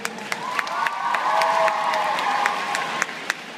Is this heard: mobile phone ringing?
no